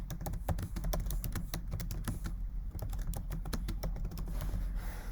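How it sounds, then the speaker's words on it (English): Typing on a computer keyboard while working in Adobe Illustrator, with rapid, continuous key clicks at close range and a steady rhythm throughout, no voices. "So I'm just going to type a thing."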